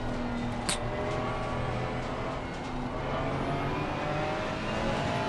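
Race cars overtaking in Assetto Corsa Competizione during an endurance race at Barcelona, a sustained loud engine roar with revving pitch changes as another car draws alongside.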